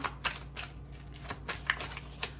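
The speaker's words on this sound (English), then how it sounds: "So I'm just gonna shuffle again and see what is the final card" A deck of cards is shuffled by hand in quick bursts, a series of crisp riffling flutters and soft snaps spaced through a quiet room.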